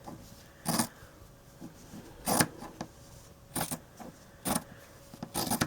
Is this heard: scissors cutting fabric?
yes